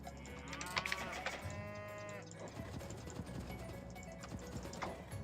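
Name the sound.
cows mooing in a video game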